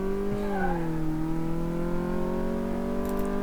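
A Lotus Elise drives around a test track in the Car Mechanic Simulator 2018 video game, producing a steady engine drone whose pitch dips slightly and then holds level, with faint whirring and no talking.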